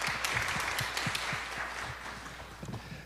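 Brief applause from a young adult congregation during a Korean church worship service, a soft, fairly distant patter of clapping that fades gradually, with a few low thumps underneath.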